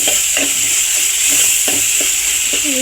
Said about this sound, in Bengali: আর আরেকবার নেড়ে চেড়ে দিচ্ছি, চারপাশে পোড়া লেগে না যায়।